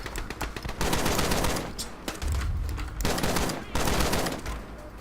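Rapid gunfire from the video game Shots Fired: Overkill, dense automatic bursts separated by brief pauses, loud and close.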